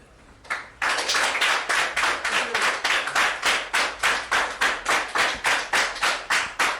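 A group in a hall claps in slow unison, sharp, evenly spaced beats repeating about every third of a second after a couple of scattered first claps, steady and fairly close.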